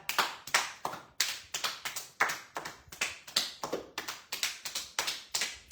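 Hands patting the body during a short movement exercise, a steady run of brisk, close slapping taps in quick rhythmic bursts with no talking.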